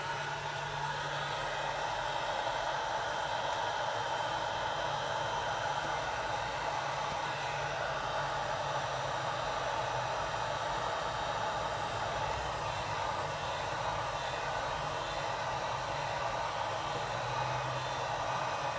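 A heat gun blows gently on an electrical connection, giving a continuous even rushing whoosh that holds steady throughout with no speech.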